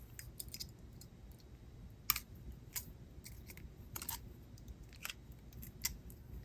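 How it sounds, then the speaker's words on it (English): Small snips and clicks from cutters trimming excess jewelry pin wire, a scattered series of faint, crisp ticks, close up in a quiet room. "Cut off the excess pin,"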